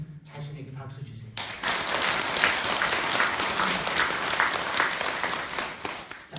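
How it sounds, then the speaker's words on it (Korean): Audience applause in a temple hall during a Buddhist dharma talk at Seongjusa temple in Changwon, Korea; a brief voice at the start gives way to a loud, sustained wash of clapping from the crowd. "여러분 자신에게 박수 주세요."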